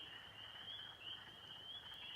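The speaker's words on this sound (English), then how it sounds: "It almost sounds like ducks quacking," Frogs croak at night around a campsite, a continuous high, shrill trilling chorus that holds steady throughout, distant and faint, with no talking.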